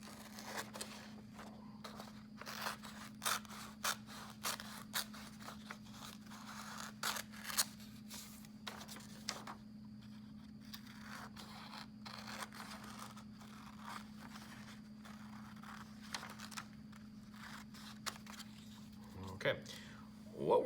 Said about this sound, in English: you're going to cut on the folds because we need 3 relatively equal sized pieces of paper